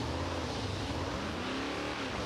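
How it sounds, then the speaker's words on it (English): A video game car engine, a V8 in a Mustang, revs continuously, a rich, buzzy drone rising and falling in pitch, close and loud with no talking. "The engine we have sounds like a V8"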